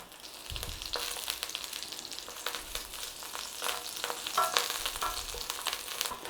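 Sausages sizzle and fry gently in oil in a pan for Aussie curried sausages, a steady broad crackle with occasional louder spits and pops, close and continuous with no talking.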